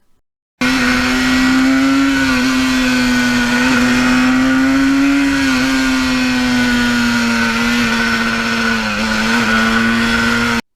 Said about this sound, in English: I'll start it up for you. No. Oh, no electric starter.